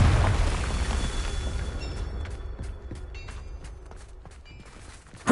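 A Confringo blasting spell explodes in Hogwarts Legacy as a loud low boom, then fades into a rumbling tail with scattered crackles and debris clatter.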